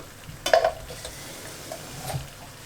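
Vegetables simmering in a home kitchen pan as water is added, a brief splash and clatter followed by soft bubbling sizzle and a second faint stir.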